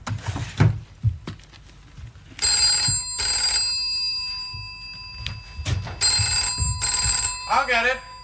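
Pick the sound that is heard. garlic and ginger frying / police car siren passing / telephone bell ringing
telephone bell ringing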